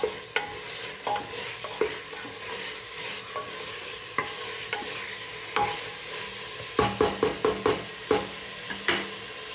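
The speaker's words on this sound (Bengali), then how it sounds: "চিকেনটা ততক্ষণে ভাজা হোক" Chicken fries in a pan under a steady low sizzle, with a spatula scraping and clacking against the metal in repeated stirring strokes that come quicker toward the end, no voices present.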